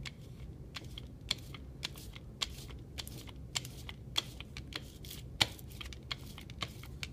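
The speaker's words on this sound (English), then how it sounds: "when you hear the sound, like Velcro, you can probably hear that now, then you know you've got just the right amount of ink on there" A brayer rolling out printing ink on a flat surface for a Styrofoam reduction print, giving a sticky, crackling Velcro-like tack sound in rapid irregular clicks, close and fairly quiet with no talk.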